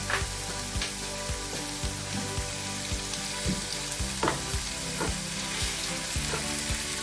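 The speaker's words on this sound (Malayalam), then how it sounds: "നമുക്ക് പയ്യെ ഓരോരോ മീനായിട്ട് ഇട്ട് കൊടുക്കാം" Fish pieces going one by one into hot oily masala for an Alleppey-style Kerala fish curry, a continuous loud sizzle with scattered soft thuds and crackles, close up.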